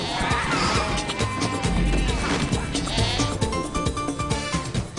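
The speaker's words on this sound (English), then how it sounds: "Is that a goat?" A goat bleats repeatedly amid a busy, loud mix of crashing and clattering noises in a comedy film trailer.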